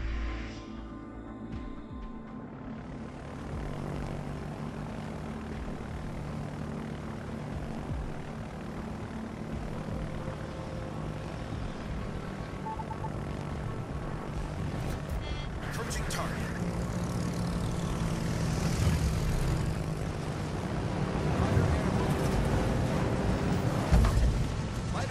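World of Warships aircraft fly overhead: a sustained propeller-engine drone swelling louder over time, with scattered mechanical clatter and game voices underneath.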